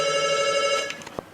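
A telephone gives an electronic ring with a steady tone for most of the moment. It then breaks off into a few short clicks and taps. The ring is fairly close and sounds alone.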